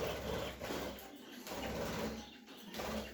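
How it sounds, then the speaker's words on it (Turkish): A budgerigar in a breeding cage flaps its wings in quick soft fluttering bursts, faint and close, with rustling and a light coo-like bird sound. "Böyle kanat çırpabilsin kuş arkadaşlar."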